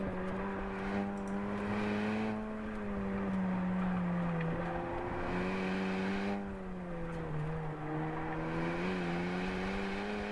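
A car running an autocross course, its engine a steady droning tone that rises and falls as it revs and lifts through the course, heard at a distance throughout with no talking.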